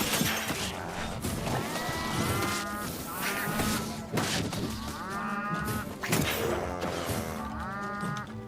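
Cows in the video game Town of Zoz let out repeated loud, drawn-out moos over busy game noise and occasional crashing thuds, with several calls overlapping across the stretch.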